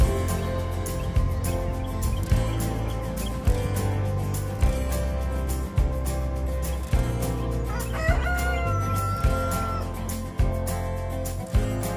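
A rooster crows clearly partway through, with chickens clucking around it, all mixed with steady rhythmic background music from a video playing nearby.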